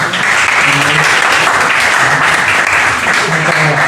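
A school gathering about sports injury prevention breaks into loud, continuous applause for student teachers, a dense wash of clapping close by with faint voices murmuring underneath.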